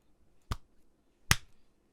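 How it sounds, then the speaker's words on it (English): Two sharp, isolated hand claps made close to the mic for syncing audio, about 0.8 seconds apart, each crisp and sudden against an otherwise quiet room. "One big clap in front of your face."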